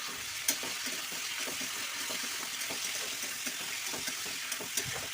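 Salt and turmeric are stirred in a frying pan while cooking kunduli (ivy gourd) in a home kitchen: a steady sizzle with soft, irregular scraping taps of the spoon against the pan, close and continuous.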